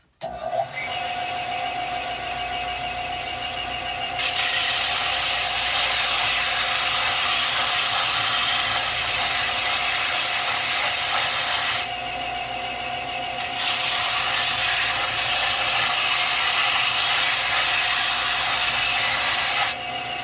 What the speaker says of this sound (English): this is a little trick I can do with the belt sander